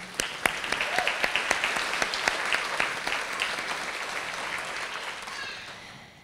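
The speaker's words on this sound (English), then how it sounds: "and applause to all of you." A crowd claps steadily, sharp individual claps standing out at first, then softening into a broad wash of applause that slowly fades.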